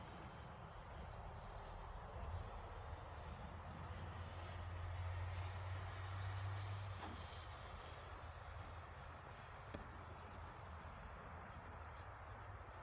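A Freewing 90mm F-16 V2 radio-controlled jet on a 6s setup makes a speed pass down a runway, heard as a faint, distant steady whine with a low rumble, and insects chirp throughout.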